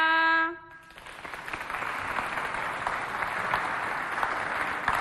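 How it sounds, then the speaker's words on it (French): Crowd at a neighbourhood community event applauding a singer right after the national anthem, a sustained even patter of many hands that begins after a brief held sung note cuts off. "on l'applaudit encore une fois de plus"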